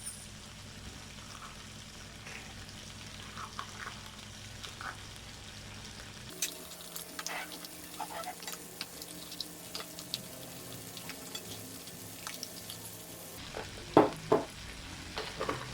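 Shells added to crab frying in a pan for a coconut-milk seafood dish with peanut butter; a steady sizzle under quiet background, then louder stirring and scraping with occasional clinks.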